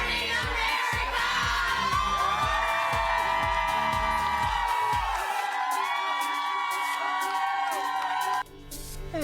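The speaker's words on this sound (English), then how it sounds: "good morning to that great crowd in my hometown of Cleveland" A big outdoor morning crowd in Cleveland cheers, whoops and shouts loudly and continuously, with rhythmic thumping music pulsing underneath until both cut off abruptly near the end.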